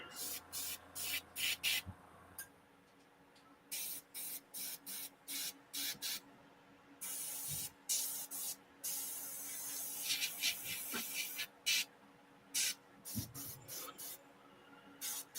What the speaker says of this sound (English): Oh, somebody's airbrushing.